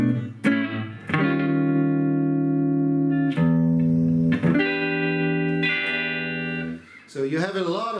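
An electric guitar with a humbucker pickup plays through a Lexicon Signature 284 amp with treble up, sustained chords ringing with heavy reverb and slight distortion between sharp pick attacks, ending in a wavering, bent note.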